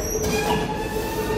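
A Paris metro train pulls into a station, its steel wheels squealing in high, steady tones over the low rumble of the rolling cars, close and continuous.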